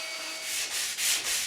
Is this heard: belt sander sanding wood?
yes